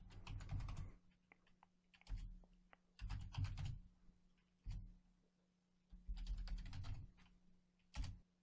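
Quick bursts of keystrokes on a computer keyboard, soft and close, coming in several short clusters separated by brief pauses.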